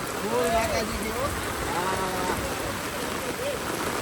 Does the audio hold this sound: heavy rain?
yes